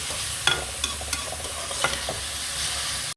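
Onions frying in a pan until brown, a steady bright sizzle with occasional clicks and scrapes of a spatula, close and loud, ending abruptly, no talk.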